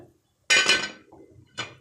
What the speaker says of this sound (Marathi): आता झाकण ठेवूया